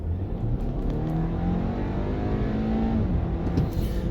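A 2020 Audi Q5 in dynamic sport mode accelerates from about 26 mph with a transmission kickdown, its engine note rising steadily in pitch from inside the cabin.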